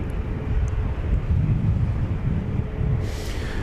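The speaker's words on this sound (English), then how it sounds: "here comes flight 2904 from San Francisco, American Airlines, 737-800." American Airlines Boeing 737-800 jet on approach to DFW Airport, a steady broad low roar throughout, with a brief hiss of wind toward the end and no voices.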